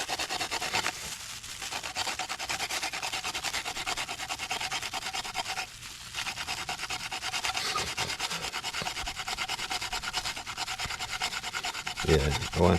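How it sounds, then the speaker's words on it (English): A small nutmeg grater rasps steadily against a whole nutmeg, continuous close scraping strokes with a brief pause, then a few clattering knocks at the end. "See my little nutmeg grater here, you see it?"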